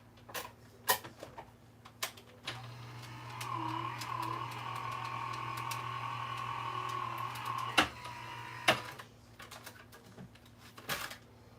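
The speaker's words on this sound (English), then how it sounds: "I'm going to run this through my machine here" A vinyl cutting machine runs at close range, giving a steady mechanical whir with light ticking and clicking for several seconds before stopping; no one talks.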